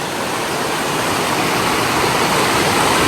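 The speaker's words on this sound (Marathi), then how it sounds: "अशा प्रकारे हे वरून पाणी येतं आहे हे अजून वरून पाणी येत आहे डोंगरातनं" Steady, loud rush of monsoon water pouring down from the mountain at Dhangar waterfall near Badlapur, a dense continuous roar close by, with no voices.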